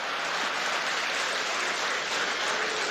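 A large conference crowd claps for the President in a steady, unbroken roar of applause at an even, loud level throughout.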